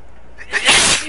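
One abrupt, forceful sneeze sounds up close, a short breathy burst that peaks and fades quickly against a quiet room.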